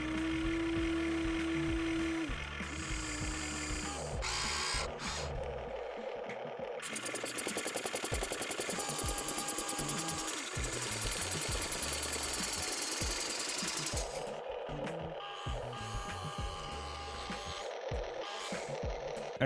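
A small motor drives a rapid mechanical hammering from the hammer attachment of a plastic Diecast Masters Caterpillar 320 RC excavator, steady and close, with brief pauses and changes in pitch as it runs.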